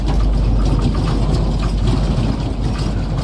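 Boeing 737-700 engine in the PMDG flight simulator, just after start, gives a loud, steady low rumble with a rattling texture, continuous and unbroken with no talk.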